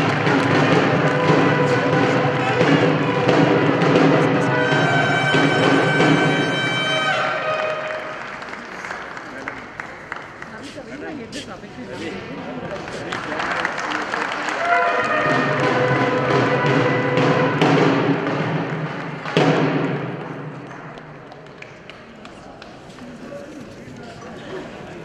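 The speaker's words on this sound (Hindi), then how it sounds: "जोरदार तालियों से स्वागत कीजिए" An audience at a BMVSS para volleyball event applauds to welcome a guest. Steady, loud clapping fills most of the stretch, swelling again midway, while an amplified voice carries on over it.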